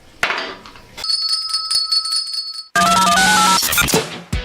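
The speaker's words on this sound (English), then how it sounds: "Now where's my bell?" A hand bell rings out in bright, sustained tones, struck a few times with pauses between, loud and close with a lingering metallic shimmer.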